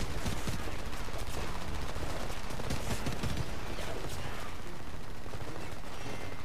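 Gunfire in the Homefront video game on its first campaign mission: dense, continuous shooting and crackling bursts with no pause.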